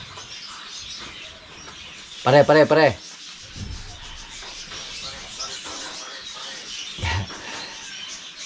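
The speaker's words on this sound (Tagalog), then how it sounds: "Yung mga ibon na to, ito po yung isa sa mga bumalabog sa ating mga alagang sisiw dito." Wild birds calling outdoors near a yard with young chicks: a short burst of loud, rapid chirping notes stands out, with fainter calls later, over constant background noise and someone speaking.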